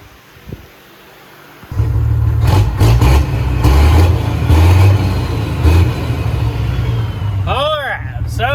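A modified burnout truck with a 91mm turbo, run without nitrous, rumbles with a loud, deep engine that kicks in abruptly and holds a heavy revving drone, with a few throttle blips and people talking over it.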